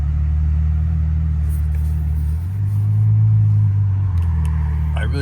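A Ferrari F12 with a V12 engine drives through a short bridge, its deep, steady engine drone loud and close, swelling briefly in pitch and volume in the middle before easing back.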